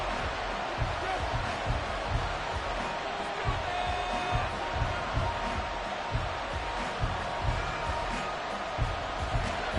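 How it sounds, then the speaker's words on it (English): Steady crowd roar from a Madden NFL football video game, Cowboys at a stadium on third and long, a dense continuous din with faint swells throughout, no clear talk over it. "This crowd turning up the decibel level."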